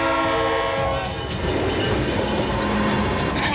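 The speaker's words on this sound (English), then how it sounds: "Here comes the choo-choo." A train rolls past at close range, loud and continuous, with a horn-like tone early on and clattering wagons beneath, while a car waits for it to go by.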